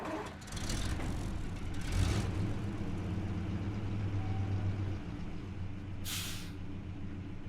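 Truck engine idling in the SnowRunner video game, a loud steady low rumble joined near the end by a sharp, short hiss of an air brake releasing, with no talking.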